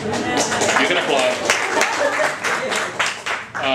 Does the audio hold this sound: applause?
yes